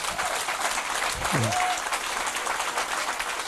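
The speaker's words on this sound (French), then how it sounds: "Applaudissez le Seigneur" A church service congregation applauds after a healing testimony, a steady wash of clapping with a brief voice and sung tone rising over it midway.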